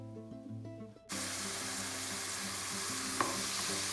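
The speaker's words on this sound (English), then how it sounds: "Stir it well and cook until the onions becomes transparent." Onions and crushed spices sizzle and fry loudly in a pan over a medium flame while being stirred, a steady hiss with scraping stir sounds throughout after a brief quieter start.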